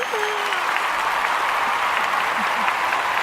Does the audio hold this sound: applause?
yes